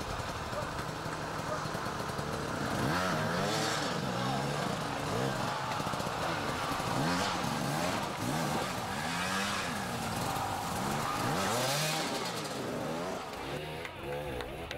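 Enduro motorcycles racing at Erzberg, engines revving hard and repeatedly rising and falling in pitch as the bikes push on, loud and continuous, with a commentator talking over the racing.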